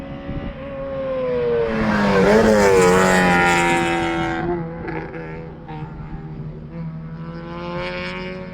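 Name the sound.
race car passing while finishing its lap at Gingerman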